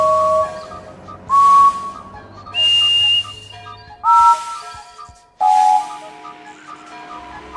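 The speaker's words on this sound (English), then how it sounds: "One of these whistles sounds like Henry's." Steam engine whistles from a Thomas & Friends video game sound in turn, five separate clear toots, each held about half a second with brief pauses between, playing close and loud.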